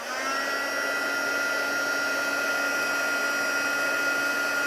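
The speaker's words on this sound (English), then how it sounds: "then we come in with our heat tool, and we are going to heat our image up" A heat embossing tool blows a steady, loud whirring hiss with a high electric whine while heating embossing powder on a stamped silver fern card, continuous and close with no pauses or talk.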